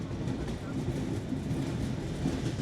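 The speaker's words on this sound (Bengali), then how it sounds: "আস্তে আস্তে গতি বাড়াচ্ছে ট্রেনের" Passenger train on the rail route to Cox's Bazar, gaining speed: a continuous low rumble and rattle heard from on board, steady and moderately loud for the whole stretch.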